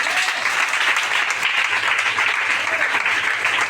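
Church congregation applauding and cheering in praise of Jesus, a dense, steady wash of many hands clapping that fills the room for several seconds with no pause.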